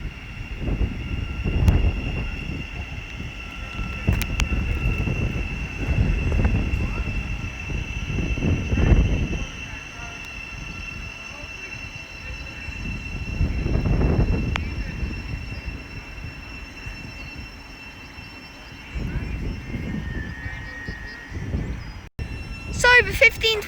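Trains passing at Biggleswade on the East Coast Main Line, several rising and fading rushes heard trackside amid outdoor background noise and a tone-like hum.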